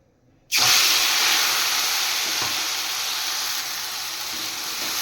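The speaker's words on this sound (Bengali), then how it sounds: "এখানে মাছ ভাজার তেল রয়েছে অনেকটাই রয়েছে এবার আমি এখানে দিয়ে দেব রসুন আর আদা পেস্ট" Garlic and ginger paste drops into a generous amount of hot oil left from frying fish, bursting into a loud, sudden sizzle after a brief silence and hissing steadily, easing slightly as it continues.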